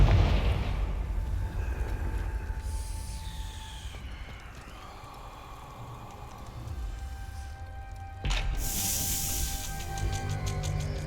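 Confringo fire spell exploding in Hogwarts Legacy, a low rumbling blast with hissing, crackling debris that fades over several seconds before a second sharp burst of fiery crackle near the end, moderately quiet overall.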